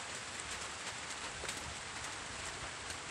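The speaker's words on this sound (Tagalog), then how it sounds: "Ang lakas ng ulan." Heavy rain pours steadily on a nipa hut by a pig pen in farm fields, a dense, loud hiss of drops drumming on surfaces with no letup.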